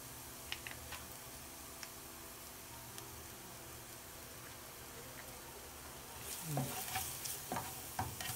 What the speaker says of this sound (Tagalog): Pa-browning lang muna natin yung bawang para masarap.